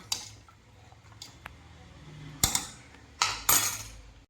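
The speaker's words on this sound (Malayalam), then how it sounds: "ഒന്ന് ഇളക്കി കൊടുക്കാം." A spoon stirs sambar in a pot, with quiet scraping followed by a few distinct metallic knocks and clinks against the pot's side, close and isolated.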